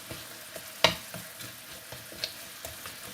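Finely chopped garlic and balsamic vinegar cook slowly on low heat in a pan, giving a soft, steady sizzle with occasional light clicks of stirring, close and quiet, with no voices.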